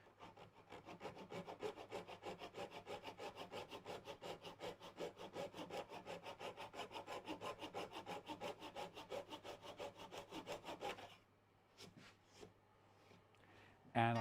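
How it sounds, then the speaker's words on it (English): A hand saw ripping a small wooden plug along the grain, fast even rhythmic strokes for about eleven seconds, quiet and close, then stopping with a few faint handling sounds. "This is actually ripping because I'm going down the grain"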